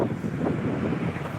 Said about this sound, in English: It's a little windy out today.